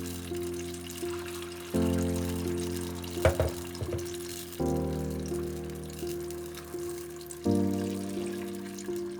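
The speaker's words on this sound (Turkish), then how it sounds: "İki su bardağı kadar su ekleyeceğim." Water is poured into a pot of olive-oil stuffed onions in three separate steady pours. Each pour sets up a close, trickling splash with a rising tone, and brief pauses and a small clatter fall between the pours.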